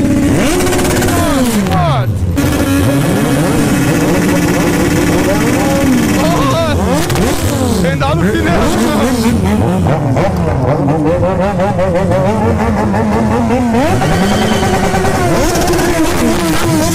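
Several motorcycles rev and ride through a city street at night, loud and close, with engines climbing and falling in pitch as they pass in overlapping waves.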